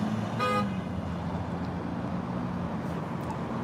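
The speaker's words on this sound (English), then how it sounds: "She honked 2 times" A single short car horn toot, moderately distant, over a steady rumble of passing road traffic in Yakima.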